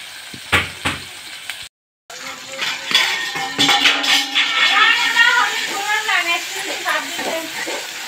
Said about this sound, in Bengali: এই যে দেখতেছেন আমি পেঁয়াজটা ভালো করে কষিয়ে নিচ্ছি।